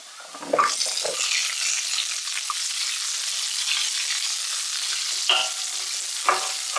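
Shallots sautéing in hot oil with ginger and garlic for a Kerala squid roast: a steady, close sizzle with a few sharp stirring scrapes near the start and again toward the end.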